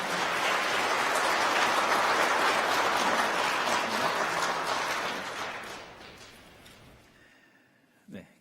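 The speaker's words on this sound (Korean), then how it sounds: "여러분들 환영의 박수 부탁드리겠습니다." A church congregation at a Sunday service applauds to welcome a new member, a sustained crowd of clapping that holds for about five seconds, then fades out to quiet with a brief bump at the end.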